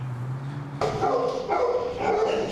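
Several dogs bark at a county animal shelter holding seized English bulldogs and mastiff puppies, with a sudden burst of overlapping, echoing barks after a low hum, continuing steadily nearby.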